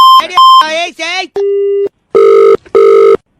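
A series of electronic telephone tones: short beeps, then a steady low tone and two longer repeated tones, like a line signal after a call ends.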